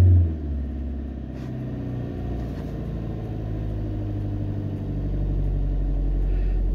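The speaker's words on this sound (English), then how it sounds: "Let's just have a listen to those revs." Ford Transit Connect engine idling steadily with a low, continuous rumble, close and alone, rising slightly in loudness near the end.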